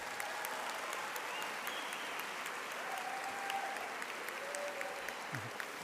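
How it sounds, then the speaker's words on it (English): A crowd at a school district opening day ceremony applauds steadily, a dense patter of clapping hands that holds at an even level for several seconds. "Please give them all another round of applause."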